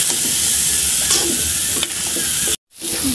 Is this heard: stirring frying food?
yes